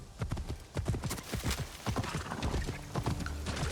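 Rhythmic horse hooves clip-clopping at a steady walking pace in the video game Assassin's Creed Shadows, close and fairly loud, with a low background hum beneath.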